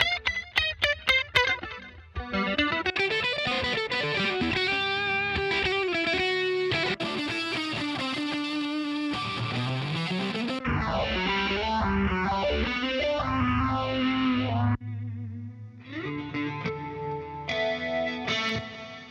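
An electric guitar reamped through a series of amp effect presets, playing a picked riff that shifts from clean plucks into distorted, chorus-laden and sweeping modulated tones as the settings change, loud and alone.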